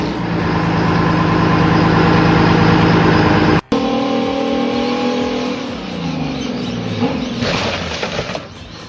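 The Caterpillar loader engine of a giant car-crushing motorbike runs loud and close, a heavy rumbling drone that cuts out abruptly, then restarts and settles into a lower, rougher rumble that tapers off.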